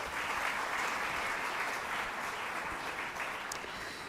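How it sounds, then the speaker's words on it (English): A crowd at a Canine Companions assistance-dog graduation ceremony gives donors a long round of applause; the dense clapping is steady and even and carries on without any speech over it. "So we have a big round of applause for our donors."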